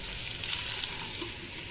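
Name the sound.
potatoes frying in masala in a pan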